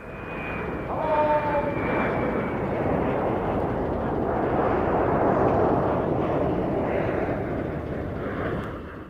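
A British Midland Airways Boeing 737-500 airliner flies past at the 1996 Duxford airshow, a loud, continuous jet engine roar that holds steady for several seconds, with faint whining tones over the broad rumble and no talking.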